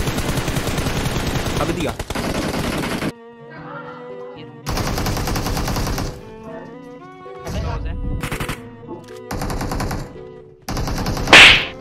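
Rapid bursts of gunfire from a video game firefight crackle in several loud blocks between stretches of excited talk from players, ending in a sharp bright burst.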